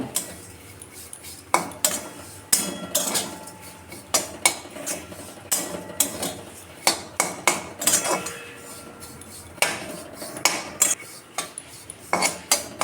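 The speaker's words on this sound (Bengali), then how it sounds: "সেমাইগুলা অল্প করে হালকা করে ভেজে নেব।" A metal spatula scrapes and clinks against a pan in irregular repeated strokes, close up, as vermicelli is stirred and fried in ghee.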